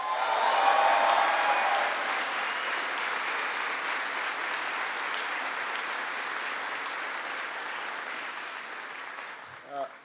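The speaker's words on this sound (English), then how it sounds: "Ambassador Kathleen Stevens and General Skip Sharp, please give them a big round of applause." Audience applause at a Veterans Day event in South Korea honoring an ambassador and a general, a broad sustained wash of many hands clapping that holds steady for the whole stretch and tails off near the end.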